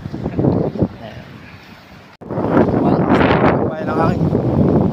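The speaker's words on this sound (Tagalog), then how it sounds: "Malakas ng hangin." Strong seaside wind buffets the microphone with a loud roar that dips briefly, then returns harder with gusts. People talk in the background.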